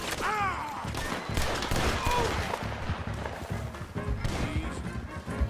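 Rapid gunfire from many guns in the video game Red Dead Redemption 2, dense overlapping shots cracking and booming in a chaotic firefight with ricochet whines and faint shouting.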